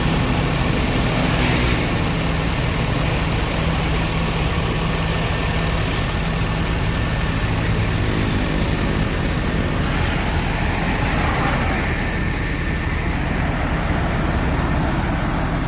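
Sempati Star Super VIP coach engine running steadily, a continuous loud low rumble with constant broadband noise throughout and no talk.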